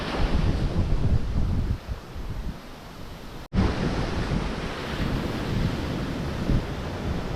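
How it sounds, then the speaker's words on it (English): Ocean waves wash onto a beach at Gokarna in India, a loud, constant roar of surf mixed with heavy wind buffeting the microphone, with one brief dropout midway. "Then there's these waves lashing, beach views."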